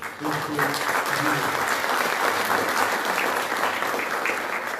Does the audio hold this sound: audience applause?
yes